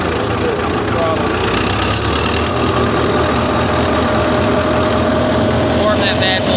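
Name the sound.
Wisconsin engine on an old wood chipper idling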